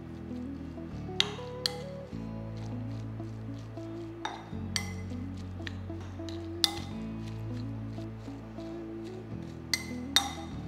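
Minced chicken being mixed with spices and chopped coriander leaves in a bowl, heard as a string of sharp, close clinks and knocks against the bowl, spaced irregularly over a low steady hum.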